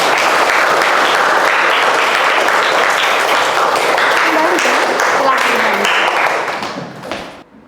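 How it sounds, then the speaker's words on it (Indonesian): A class audience at a school cohort event gives a presenter a round of clapping: loud, crowded applause that holds steady for several seconds, then thins and fades out near the end. "beri tepuk tangan untuk"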